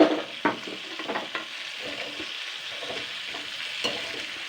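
Drumstick (moringa) pieces sizzle steadily in a hot pan while a spoon scrapes and stirs in irregular strokes, close up, with no talking.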